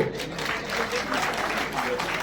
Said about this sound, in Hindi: तालियां बजाने में कंजूसी मत करो